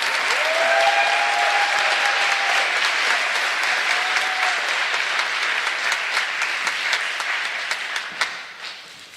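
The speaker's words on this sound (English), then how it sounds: "Another round of applause." Applause at a graduate institute's white coat ceremony, a dense wash of clapping from a seated audience that gradually thins and fades into scattered claps.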